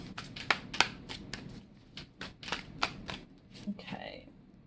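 Arcanum tarot cards shuffled by hand on a cluttered desk, a quick run of crisp riffling snaps and flutters lasting several seconds, close and fairly loud, with a brief soft voice near the end.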